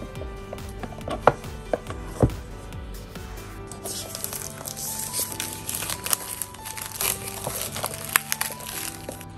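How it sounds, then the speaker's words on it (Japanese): Packaging for a new VA9 Pro Max smartwatch being opened, with crisp crinkling of plastic and paper, scattered taps and knocks, and a denser rustle building partway through, close and fairly quiet, without any talking. "新品未使用ですね、これから開封させていただきます。"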